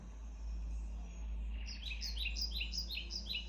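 Quick chirping birdsong in repeated bright notes starts partway through, over a steady low hum, played from the sleep mode of Anker Soundcore Life Q35 Bluetooth headphones.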